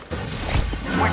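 RPG rocket explosion in an online Modern Warfare 3 Team Defender match on Seatown: a sudden low, heavy blast bursting out of dense battlefield noise, then rumbling on briefly.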